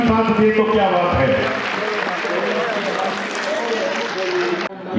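Applause at a public government event in Rajasthan where children are being fed milk, clapping under music and a voice throughout, dipping near the end.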